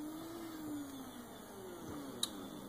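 A small Vexta stepper motor driven by an Arduino and EasyDriver hums faintly as it runs back and forth, a quiet steady whine with gently sliding pitch as it speeds up and slows, plus one brief click.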